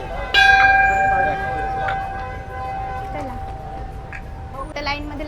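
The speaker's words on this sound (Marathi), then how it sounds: "मला घंटी वाजवणे." A temple bell rings in a crowded temple, one bright metallic strike near the start with a sustained humming ring, followed by a few fainter strikes amid crowd noise and voices.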